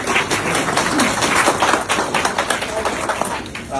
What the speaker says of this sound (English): so I want to give everybody a round of applause